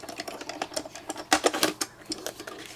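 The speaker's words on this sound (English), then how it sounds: "I'm just going to go around with my scissors" Scissors snip around a paper teapot cut-out, a quick irregular series of crisp close clicks and cuts, fairly quiet.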